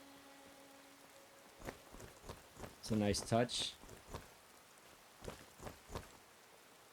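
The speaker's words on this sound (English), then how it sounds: "You see the rain hitting the ground." Rain falling on the ground in the game SkyGround Chronicles, a faint steady patter with scattered drop ticks, under a short stretch of someone talking.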